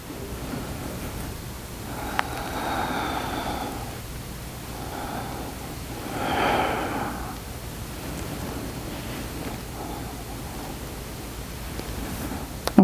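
Slow, soft breaths drawn in and let out during a floor-based full-body thoracic mobility exercise class, two or three gentle airy swells close to the mic with no talking.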